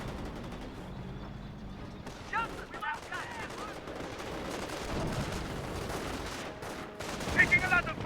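Gunfire from the World War II strategy game Company of Heroes crackles at a fairly faint level in scattered bursts, with a louder cluster of shots toward the end over a steady battlefield background.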